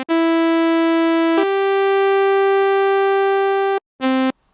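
Arturia CZ V phase distortion synth playing a sawtooth-like custom waveform, bright buzzy sustained notes that shift pitch and brightness in steps, a long held tone cutting off before a short final note.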